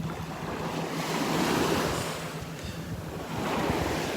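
Ocean waves washing steadily onto the beach at Delnor-Wiggins, a continuous loud surf roar with some wind buffeting the microphone, no voices.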